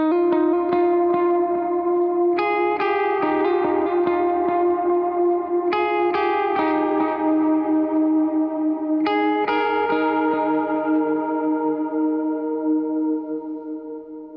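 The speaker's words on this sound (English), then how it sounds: "So for this part, I'm going to turn on a chorus, and then my verb and delay again" Electric guitar played with chorus, reverb and delay effects, repeated picked chords and notes ringing and smearing into lush echoing sustain, loud and alone, trailing off at the end.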